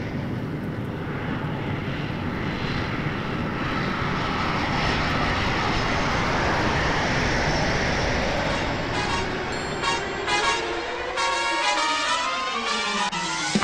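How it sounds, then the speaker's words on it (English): Steady, loud roar of a jet airliner cabin on landing approach, a dense broadband rumble that holds throughout, with whining engine tones sweeping and shifting in the later seconds. "All passengers and cabin crew should now be seated with their seatbelt securely fastened. The cabin lights will remain dim for landing."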